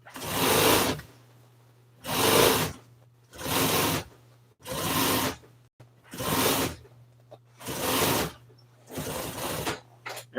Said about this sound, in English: As I'm sewing this around